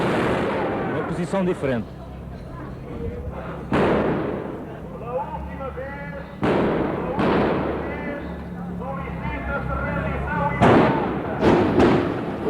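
Gunshots during an armored assault in the 25 April revolution, sounding as several loud, sharp blasts a few seconds apart that ring out over someone narrating.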